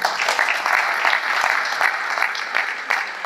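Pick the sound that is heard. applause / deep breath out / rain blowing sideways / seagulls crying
applause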